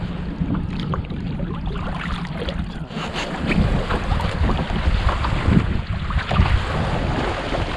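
A small sailboat runs on a broad reach, with loud wind buffeting the microphone and water rushing and splashing along the hull throughout, and no one speaking.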